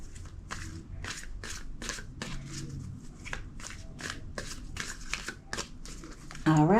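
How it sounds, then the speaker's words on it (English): Tarot cards are shuffled in a run of quick, crisp riffling bursts, evenly spaced and close up, with a faint voice at the very end. "Two more shuffles."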